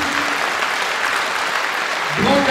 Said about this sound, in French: vous pouvez tous vous applaudir pour ça